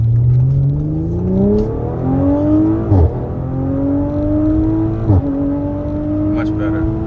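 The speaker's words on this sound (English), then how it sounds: "we're gonna go ahead and floor it now and see how everything is" A B9 Audi RS5 with Stage 1+ tune and fresh spark plugs accelerates at full throttle, engine note climbing steadily through the revs with two sharp gear shifts, loud and close from inside the car.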